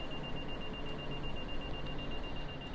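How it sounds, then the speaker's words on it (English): A vehicle's distance sensor emits a steady, faint high-pitched beep tone running continuously through the clip, layered over loud low road and engine rumble inside a moving vehicle in Japan. "this little beep you're hearing is my distance sensor"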